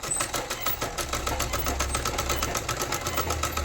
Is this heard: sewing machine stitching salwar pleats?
yes